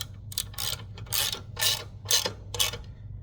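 A wrench ratchets in short bursts, tightening 14 millimeter bolts on a Schwinn AC Power exercise bike, about six quick clicking runs close up with no talk.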